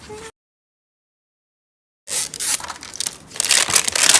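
Crinkly plastic and foil wrapping of a LOL Surprise doll being torn open and crumpled up close, a rough rustling burst after a brief silence.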